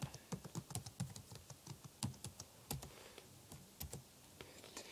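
Fingers type quickly on a computer keyboard, a steady irregular patter of close, soft key clicks with no talking.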